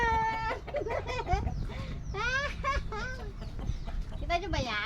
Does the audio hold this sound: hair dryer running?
no